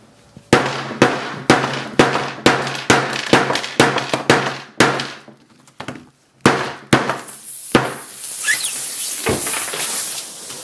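A hammer strikes a Samsung Galaxy S5 smartphone again and again, sharp loud cracks in a quick irregular series with brief pauses, ending in a hissing, crackling burst as the battery fails.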